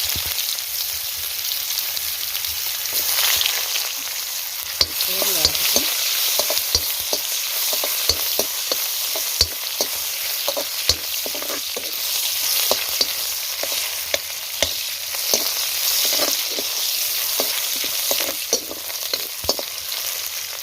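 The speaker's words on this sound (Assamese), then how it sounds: "যেহেতু তেলটো চাকি গৈছিলে, তাতে মই দিছোঁ তেজপাত আৰু দি দিম পিঁয়াজ।" Bay leaves and onion fry in hot oil left over from frying fish, producing a loud, steady close-up sizzle with frequent crisp pops and occasional stirring clicks throughout.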